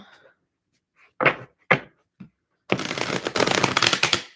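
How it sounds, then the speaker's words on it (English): Stiff tarot cards being shuffled at close range, with a few separate riffling bursts followed by a longer, continuous flurry of papery shuffling; no voices. "These cards are very stiff right now. I'm gonna have to shuffle a lot."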